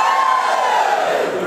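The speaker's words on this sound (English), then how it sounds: "Ready for the cheer?" A crowd cheers and shouts together in one loud, sustained burst, many voices blending into a continuous roar that holds steady before easing slightly at the end.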